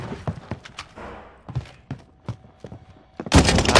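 Gunfire from enemy players in a shooting video game, with a series of sharp separate shots in an uneven rhythm, then a sudden loud burst of dense, noisy blasts at the end.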